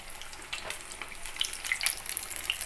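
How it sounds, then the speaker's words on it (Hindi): Pumpkin pakora coated in batter frying in oil in a kadhai, a soft continuous sizzle with small crackles and pops, close and quiet with no talking. "और फिर एक्स्ट्रा बैटर को निकाल लेंगे और इसे कढ़ाई में डाल देंगे"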